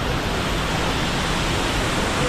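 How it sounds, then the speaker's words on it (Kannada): Abbey Falls in Coorg pours at heavy, full flow, filling the air with a dense, unbroken roar of falling water close by with no voices. "ನೋಡ್ರಿ ನೀರು ಯಾವ ರೇಂಜು ಬೀಳ್ತೈತೆ."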